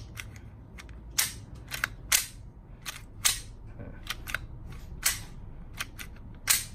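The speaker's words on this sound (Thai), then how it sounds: "จะปล่อยช้าปล่อยแรง ปล่อยช้าปล่อยแรงแค่ไหนมันก็ดีดกลับเห็นไหมฮะ" A WE Glock airsoft pistol slide snaps forward again and again after being pulled back and released, giving about a dozen sharp, close metallic clacks at uneven intervals over a low background hum.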